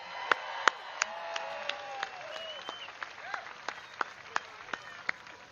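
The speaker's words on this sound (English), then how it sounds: "give yourself a round of applause" Crowd applause at a Trump rally in Pensacola, a steady, moderately loud bed of clapping punctuated by sharp individual claps every half second or so, with cheering voices and tonal shouts mixed in.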